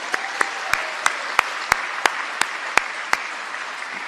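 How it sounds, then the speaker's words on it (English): Applause for hall of fame inductees at a university athletics ceremony, a steady roomful of clapping with a few sharp, evenly spaced claps standing out close by throughout. "let's give a big round of applause for them"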